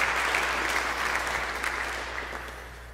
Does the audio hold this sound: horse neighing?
no